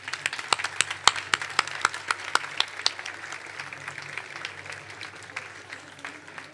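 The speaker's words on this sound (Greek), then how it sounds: "Το θερμό σας χειροκρότημα." Applause at the close of a mandolin orchestra festival concert, with scattered, sharp individual claps standing out over a softer background of clapping that gradually thins toward the end.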